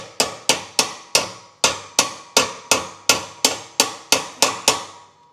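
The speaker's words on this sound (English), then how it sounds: "I just tap it to the side with another set of pliers" Metal pliers tapping a wood stove baffle: thirteen sharp, evenly spaced metallic knocks, close and loud, each ringing briefly before the next.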